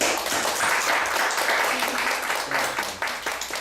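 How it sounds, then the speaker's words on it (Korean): Church congregation clapping together in a dense, steady burst of applause that stays loud for a few seconds, with a few individual claps standing out as it winds down. "박수 한번 주세요."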